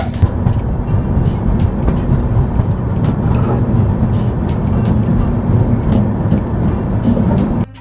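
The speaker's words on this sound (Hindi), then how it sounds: "इधर कोई ट्रेन भी जा रही है" A train rolls past near a railway junction, a loud continuous rumble with low mechanical drone and faint rhythmic clatter filling the whole stretch, close and steady.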